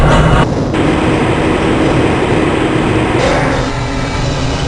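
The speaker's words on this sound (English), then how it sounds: "This train is inbound from the Area 8 topside dormitories to the Central Transit Hub in Area 9." A transit train inside the Half-Life: Blue Shift video game moves with a loud, steady broadband rumble and rushing noise, continuous and close throughout.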